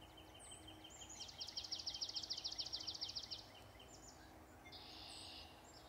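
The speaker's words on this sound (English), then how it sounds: "This is where you gotta come to if you wanna hear a lot of singing, a lot of birds singing." Birds singing in woodland during light rain, heard quietly: a rapid, bright trill lasts a couple of seconds, with scattered faint chirps and calls around it over soft background hiss.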